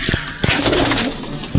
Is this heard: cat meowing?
no